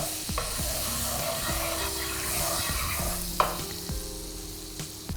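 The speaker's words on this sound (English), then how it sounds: "I'm going to add some butter into the pan and prepare the pan for my French lovely yummy toast" Butter sizzles in a frying pan over medium heat while the pan is prepared for French toast; a steady, close sizzle runs throughout, with repeated scraping and stirring taps against the pan and no voices.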